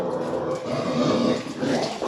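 A dog growls low and steadily at close range on a backwoods New Zealand property, a rough continuous rumble over about two seconds with a faint voice underneath.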